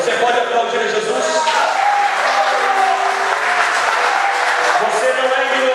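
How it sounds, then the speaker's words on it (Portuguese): A church congregation applauds during a Portuguese-language sermon, a steady broad wash of clapping that fills the whole stretch, with a voice speaking faintly under it. "Você pode aplaudir a Jesus?"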